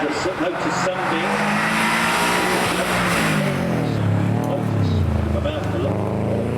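A Subaru rally car races up the Prescott speed hill climb, its engine snarling loudly as it passes close, pitch climbing then dropping through gear changes, with a tire squeal and a voice talking over the run.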